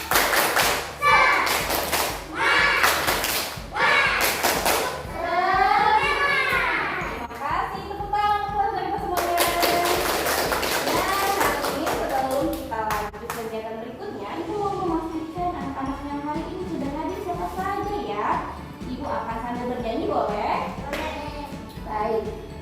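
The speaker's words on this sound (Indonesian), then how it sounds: "Kalau begitu kita tepuk semangat dulu" Schoolchildren in a classroom clap a rhythmic spirit clap in unison, bursts of loud sharp claps alternating with a teacher and kids chanting and singing between them.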